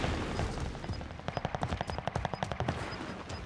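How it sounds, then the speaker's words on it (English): Rapid automatic gunfire in the video game Call of Duty Warzone: a fast, steady string of sharp shots at moderate distance, rattling over a dense, noisy battlefield background. "I think they're getting shot from the back."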